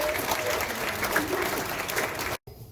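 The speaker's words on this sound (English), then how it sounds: "Round of applause for Lisa." A theater audience at a museum electricity show applauds a volunteer, a dense, loud wash of many hands clapping continuously before cutting off abruptly near the end.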